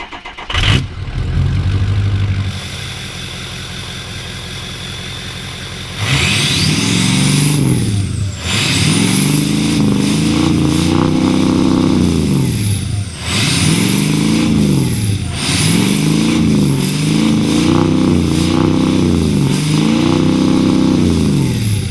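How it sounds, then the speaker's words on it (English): Ford 6.0 Powerstroke diesel pickup fitted with a new exhaust, revved repeatedly from idle in a steady series of loud, close throttle blips that rise and fall about every two seconds. "Give him a sound clip of the truck?"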